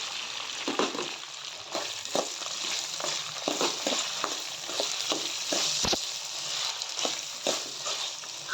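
Curry leaves, tomato, potato and onion fry in hot oil for bisi bele bath, giving a steady close sizzle with repeated scraping stirs and small knocks, and no one talks.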